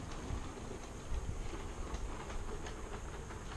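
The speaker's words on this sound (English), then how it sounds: "Look at the train." A train rolling past nearby, a steady broadband rumble with faint clickety-clack rhythm and hiss held at an even level throughout, with no talk over it.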